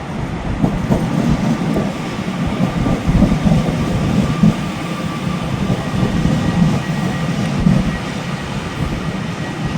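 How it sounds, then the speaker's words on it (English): Class 331 train bound for Manchester Piccadilly running through Stockport Station, a loud continuous rail rumble with faint clickety-clack and light wheel squeal, steady for the whole stretch with no voices. "a class 331 to Manchester Piccadilly"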